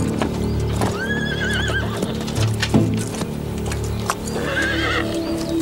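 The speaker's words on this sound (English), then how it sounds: "The horse is lame." A horse neighs and whinnies over a steady clip-clop of hooves in a wooded setting, the lame animal loud and close, with the high whinny rising twice against the hoofbeats.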